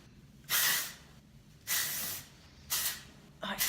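A cosmetic product sprayed from a bottle in four close, crisp hissing bursts, the first two long and steady, the last two shorter and quicker, with quiet room tone between them.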